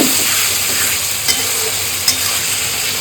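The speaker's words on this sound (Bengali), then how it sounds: "দেখি এবার আমি সব কিছু কষাবো" Spice mix sizzles loudly in oil in a pan while muri ghonto cooks, a constant close frying hiss broken by two brief scrapes of the spoon.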